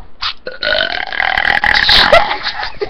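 One long, loud, rumbling burp lasts nearly three seconds, close to the listener and alone, with a brief vocal sound just before it.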